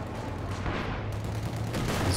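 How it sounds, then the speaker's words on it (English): An artillery barrage pounds a building in a video game, a dense, continuous roar of overlapping blasts and gunfire that stays loud from start to finish. "This barrage onto the building,"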